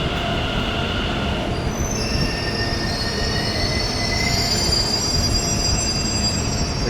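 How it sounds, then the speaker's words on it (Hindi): A Delhi metro train pulls into a station, its wheels squealing steadily in a high, drawn-out whine over a continuous low rumble of the cars rolling along the track, with no talking. "तो इतनी देर में हमारी आ गई मेट्रो।"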